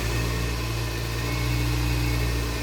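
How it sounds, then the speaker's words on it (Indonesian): A car engine idles steadily at close range after being started during a pre-trip vehicle check, a constant low hum running unbroken and evenly loud throughout with no talk over it. "Ini kita starter."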